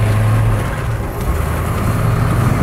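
A 1969 Ford Mustang Fastback with a Tremec 5-speed drives along with a steady, low engine rumble and continuous road noise from inside the car.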